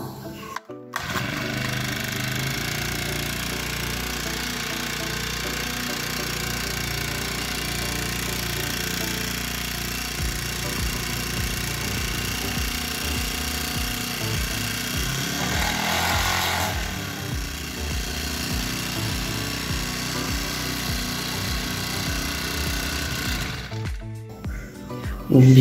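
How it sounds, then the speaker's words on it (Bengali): A Honda GX35 four-stroke grass cutter engine runs steadily after a service, a rough buzzing drone that stays loud and continuous for the whole stretch and cuts off near the end, with no talk over it. "তো আমরা এখন মেশিনটি স্টার্ট করে দেখব যে মেশিন আমাদের স্টার্ট হয় কি না"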